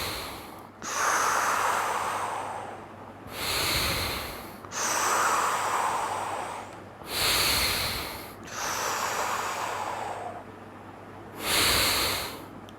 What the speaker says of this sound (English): Breathe in.